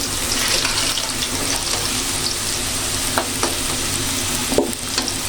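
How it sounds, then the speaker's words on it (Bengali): Potatoes frying in a pan in a home kitchen, a steady loud sizzle that runs throughout, with a few sharp clicks from stirring. "আলুটা কিন্তু লাল লাল করে ভাজতেছি"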